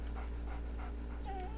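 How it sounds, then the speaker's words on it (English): Dog being petted in the Arx Fatalis video game gives a few short, soft whimpering yelps and then a higher whine, heard over a steady low game hum. "That's not really the sound that kind of dog would make,"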